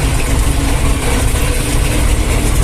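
A T-25 tractor engine idles loudly and close by, a constant low diesel rumble with no change in pace and no talking.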